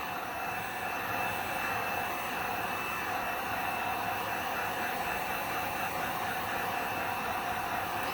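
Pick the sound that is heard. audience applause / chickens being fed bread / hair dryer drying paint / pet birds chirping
hair dryer drying paint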